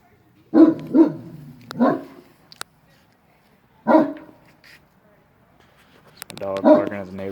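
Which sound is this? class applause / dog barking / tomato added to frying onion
dog barking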